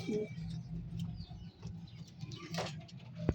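Kasni pigeons in a pigeon keeper's loft give low, soft, repeated cooing that sits close and fairly quiet, with faint rustles and a brief clatter near the end.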